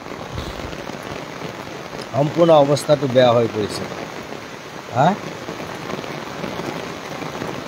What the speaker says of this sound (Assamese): আৰু এনেকুৱা বৰষুণ যে বৰষুণত মানে মানুহবোৰ বাহিৰত ওলাব পৰা নাই